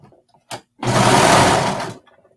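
Sewing machine stitching the side seams of leggings at half-inch seam allowance, one short whirring burst then a steady motor hum lasting over a second, close and loud.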